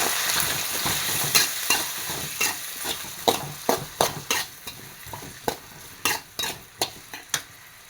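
Onion, ginger, garlic and tomato fry in a pan of oil with a steady sizzle, while a spoon scrapes and stirs in sharp, rhythmic strokes about twice a second.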